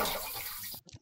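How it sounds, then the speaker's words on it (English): Water splashes and runs in a steady gush, like a tap or bath filling, in the horror video game Ib, then cuts off abruptly and leaves a few faint drips and echoes. "Water sounds, huh?"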